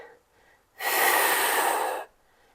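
A single long, forceful exhale through the mouth during a Pilates arm and leg extension, close and breathy, alone after a quieter breath.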